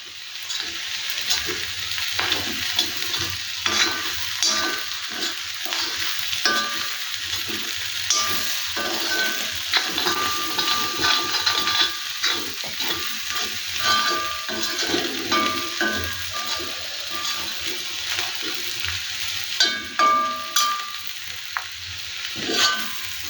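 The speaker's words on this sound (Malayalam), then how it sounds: "മുരിയുന്ന ശബ്ദമാണ് കേൾക്കുന്നത്." Spicy fresh clams roasting in a hot pan give off a steady close sizzle and crackle, broken by stirring scrapes and bubbling pops, with no voices throughout.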